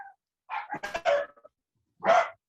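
Several household dogs bark in quick, rough bursts, a cluster of close barks followed by one louder bark after a short silence.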